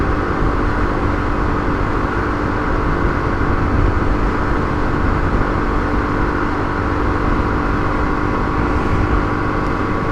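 A Kawasaki KLR 250 motorcycle engine holds a steady high-revving drone at about 6,100 RPM while cruising at 55 mph, loud and continuous with rushing wind noise and no talk.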